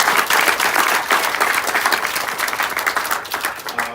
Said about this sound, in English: I just want to give you a big round of applause.